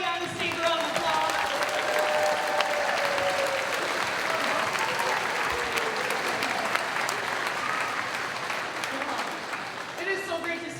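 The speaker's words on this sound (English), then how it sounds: "Can we give everybody on the stage a round of applause?" Loud, continuous applause from a school audience at a sixth-grade spring band concert, clapping for everyone on stage; a dense wash of hands lasting the whole stretch, with some faint voices and tones underneath.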